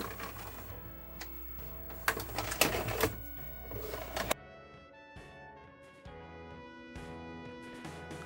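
A tape machine's grab arms pull up film and then return the tape, giving a busy mechanical whir with clicks and a louder rattling burst, followed by a quieter, steadier motor hum.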